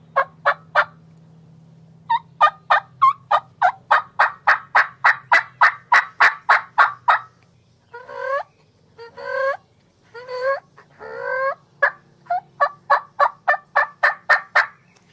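Turkey calls played by a hunter: runs of sharp, evenly spaced yelps come close and loud, broken midway by raspier, slower clucking and purring notes before a fast yelp series resumes, with no talking over them.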